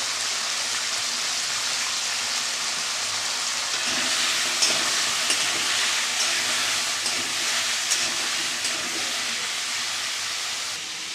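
Potatoes seasoned with salt and turmeric sizzle steadily in hot oil, a continuous broadband fry with small crackles and pops throughout, fairly close and with no voices.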